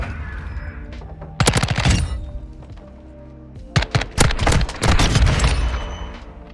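Automatic gunfire rattles in rapid bursts during a Modern Warfare 2 gunfight: one cluster of close, sharp shots early, then a louder run of repeated volleys with heavy thumps toward the end.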